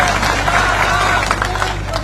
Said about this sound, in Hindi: अब बजा ताली